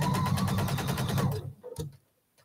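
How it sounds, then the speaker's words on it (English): A sewing machine stitching through thick, bulky quilt fabric, running in a fast, steady ticking rhythm for over a second, then slowing to a few last clunks before falling silent. "I'm watching my sewing, so I hit just on top of the X of my previous seams."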